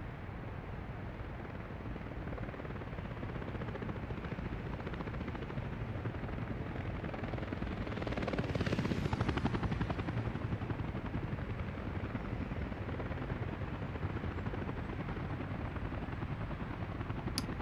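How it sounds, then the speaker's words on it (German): Helicopters fly in the city-building game Workers & Resources, a dense, continuous rotor roar that swells louder around the middle before settling back to a steady drone, with no talk. "Ich meine, die Hubschrauber helfen schon ungemein"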